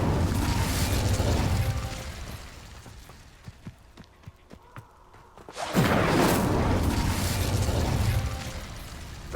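Incendio fire spell cast in the Hogwarts Legacy video game: a loud rushing burst of flame and noise, a quieter stretch with scattered clicks and pops, then a second full blast that roars on.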